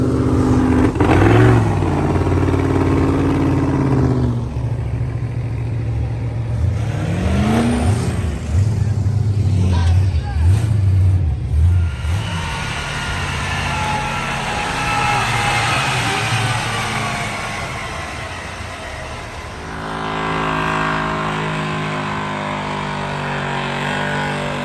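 Modified pickup trucks drag racing at the Freedom Factory strip, engines roaring and revving loud and near, with pitch sweeps as they launch and pass, a second run rising late, and faint voices in the background.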